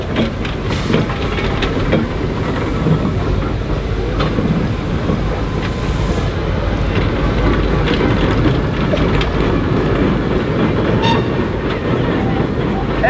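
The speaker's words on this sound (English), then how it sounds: "There's two rollers going around." Steam rollers run at a steam rally, a loud continuous chuffing and rumbling engine sound with rhythmic clanking, close by and steady throughout.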